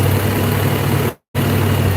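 A Pontiac Firebird engine running out of fuel rumbles loudly and close in a steady, rough drone, then cuts out completely for a split second before the rumble returns.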